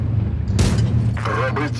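A heavy, booming tank gun shot from the video game World of Tanks Blitz bursts out over an excited voice, followed by a rumbling echo as the talking continues.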